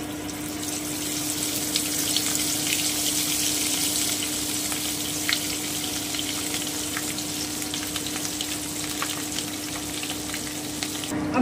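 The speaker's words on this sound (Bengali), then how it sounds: "এবারে আমি বেটে রাখা মশলাটা দিয়ে দিচ্ছি" Ground spice paste fries gently in a pan over low heat for chicken bharta, giving a soft, continuous sizzle over a steady background hum, with a few faint stirring clicks and no talking.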